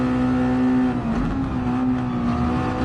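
A race car engine in a sim racing video game drones steadily under throttle, its pitch dipping briefly then rising again as the revs change, loud and continuous with no talk.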